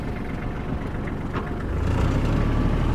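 A Kubota GL 27 mini tractor engine rumbles steadily as the machine is put into reverse and moves off. The low drone grows fuller and louder partway through, with no voices.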